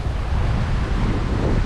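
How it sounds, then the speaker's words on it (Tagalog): Strong wind blasts across the microphone at a seashore during rough weather, a steady roaring rush mixed with the wash of surf, with no voices. "pero malakas pa rin yung hangin"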